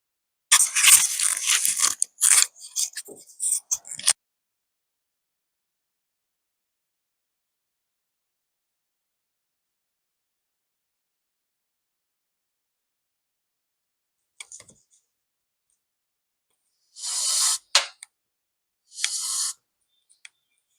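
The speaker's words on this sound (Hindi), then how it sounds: "आपने एक आवाज़ सुनी होगी उसकी हस्क की और साथ में एक क्लिक की आवाज़ सुनी होगी।" A rescued giant owl in India gives short, harsh hissing bursts with clicks: a cluster at the start, then long silence before two more loud hisses near the end.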